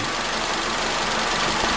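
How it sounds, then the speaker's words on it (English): A Vauxhall Corsa engine runs smoothly at idle after an oxygen sensor repair, a steady close rumble that holds constant throughout. "at this moment in time, this engine is running well"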